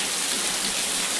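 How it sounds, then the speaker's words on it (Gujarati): Heavy rain pours down steadily, a dense, continuous hiss of drops striking surfaces that stays loud and unbroken throughout, with no voices. "વરસાદ ભાઈ જોરદાર રીતમાં પડે છે."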